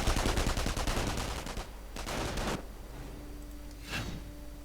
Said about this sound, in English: Volkskandiers charge forward, some with MP40s blazing. 9mm Parabellum bullets fly above their ears.